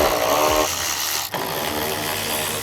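A power tool whirs steadily while 10 mm bolts are removed from the underside of a BMW G20, a loud continuous buzzing drone with one brief dip partway through.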